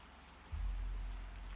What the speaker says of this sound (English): Rain and fog, can't see anything.